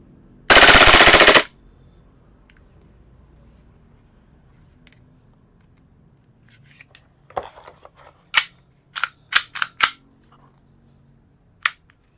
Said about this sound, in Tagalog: And then, full auto.